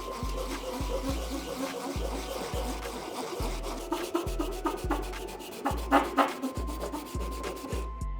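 Sandpaper rubs back and forth against a pool cue ferrule in quick, regular strokes, close and steady, with a few sharper scratchy passes partway through and no talking.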